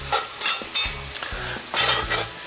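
Seasoned potatoes being stirred in a Blacklock cast iron skillet, with a steady bright sizzle and repeated scraping strokes of a spatula on the pan, loud and close, and no talking.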